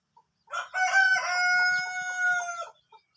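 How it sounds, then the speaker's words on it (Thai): A Nam Neung rooster of advanced age, its neck feathers moulting, crows once, near and loud, in a long harmonic call with a short lead-in, with no talk over it. "เป็นไก่น้ำหนึ่งนะครับ"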